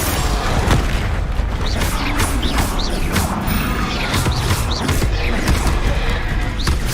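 Repeated explosive blasts of the Confringo spell in Hogwarts Legacy, booming and crashing loudly and continuously over dense combat noise.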